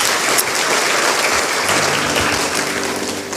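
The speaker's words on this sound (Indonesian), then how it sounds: "tepuk tangan buat kaum bapak dulu." Applause from a church congregation at a Christmas service in honour of the men of the congregation, a dense, steady wash of many hands clapping that carries on for the whole moment, with a faint murmur in the hall beneath it.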